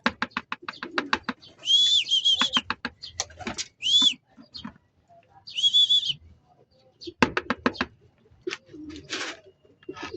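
A pigeon on a roof in San Simon, Pampanga, gives a run of soft rhythmic coos broken by sharper whistling notes. Pauses separate the bursts, and the calls sound close and clear.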